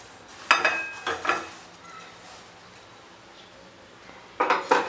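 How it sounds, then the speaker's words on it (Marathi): Sesame seeds roast in a pan, heard as three short bursts of scraping and rattling stirring, two close together early and one near the end, separated by a quiet stretch of faint background hiss. "तीळ भाजून घेऊया"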